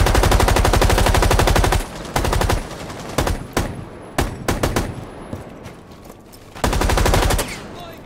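Loud automatic gunfire from a Rainbow Six Siege match on the Kafe map, long sustained bursts at the start and end with shorter broken volleys between, no talk over it.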